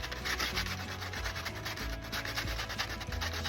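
Fine sandpaper rubbed back and forth over a Tamiya Blitzer Beetle RC car body, close and steady scratchy strokes in a quick repeating rhythm with no talk.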